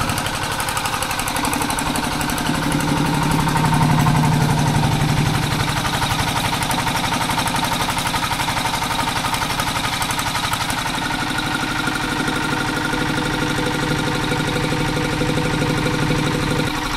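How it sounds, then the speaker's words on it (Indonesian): A steady, loud diesel engine running continuously at a river normalization worksite, a constant mechanical drone with a rapid knocking texture and no pauses. "Sementara di sana juga ada mesin diesel."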